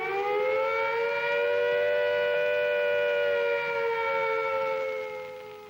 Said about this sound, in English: When you hear the attack warning, you and your family must take cover at once.